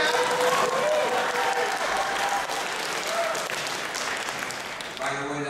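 Sustained audience applause fills a convention panel room at a Morphicon fan event, a dense, steady wash of clapping that thins slightly toward the end, with voices mixed in underneath.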